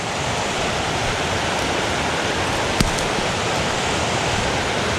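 Fast, high water rushing through a tiny creek swollen by heavy rains, a steady loud broadband roar of flowing water close by, with one brief sharp click partway through.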